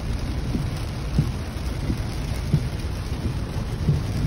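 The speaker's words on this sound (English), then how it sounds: "It's only been raining for a few minutes and it's already flooding." Heavy rain pours down during a storm in Laredo, Texas, a dense, steady hiss that never lets up, with soft low thuds of distant thunder surfacing every second or so beneath it.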